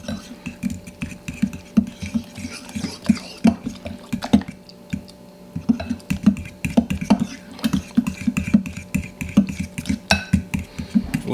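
A fork whisks Krusteaz waffle batter in a bowl, giving steady rhythmic wet clinks and sloshes, close and fairly loud, with a brief pause midway and no talking.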